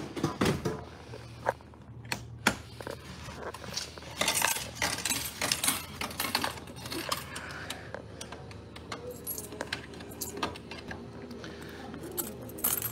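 Coins dropping and clinking into a roadside parking-area vending machine for hot coffee, scattered sharp metallic clicks and clunks across a quiet background, with mechanical rattles and a soft hum later.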